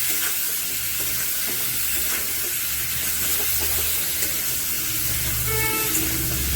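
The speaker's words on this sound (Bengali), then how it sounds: "এখন একটা ভালো করে ভেজে নেব।" Chopped vegetables frying in a pan with salt and turmeric for a vegetarian curry of cauliflower, turnip and spinach, a steady close sizzle and hiss with occasional stirring, no talking.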